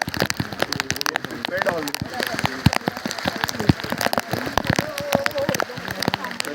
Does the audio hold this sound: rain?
yes